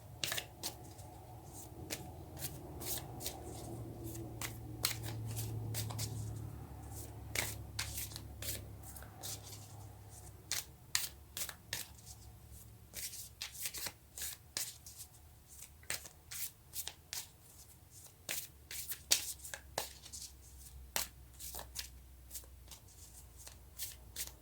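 Tarot cards being shuffled by hand at close range, a long run of quick, crisp riffling flicks and soft slides in uneven bursts, with no talking.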